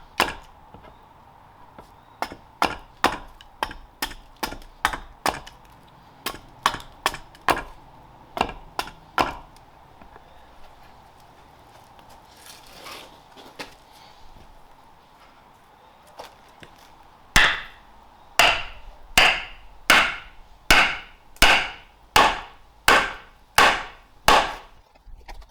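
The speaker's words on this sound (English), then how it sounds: "we're going to aggressively hammer this into the hole" A wooden leg is hammered into a hole bored in a green-wood carving stump. Sharp, loud wooden strikes come in quick bursts, then pause, then resume in a steady series, with no talking.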